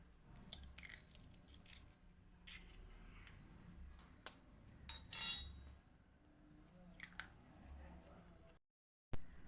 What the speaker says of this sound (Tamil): இதில் 2 முட்டையை நம்ம உடச்சி ஊற்றிக்கலாம்.